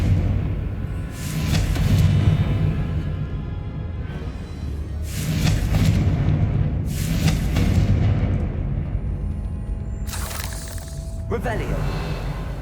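Repeated blasts from the Confringo fire spell in Hogwarts Legacy, three or four loud bursting explosions with crackling tails spaced a few seconds apart, with voices and game music underneath.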